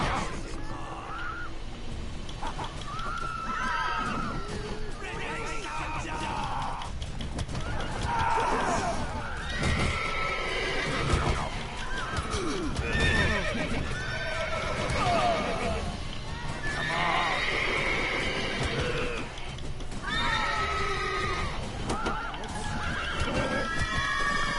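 Roach, Geralt's horse in The Witcher 3, whinnying repeatedly with hooves clopping, several neighs spread through the clip alongside game sounds and a person talking over them.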